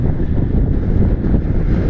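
Big typhoon waves and strong wind on the Baler shore at high tide, a loud continuous roar of surf with heavy wind buffeting the microphone and no speech.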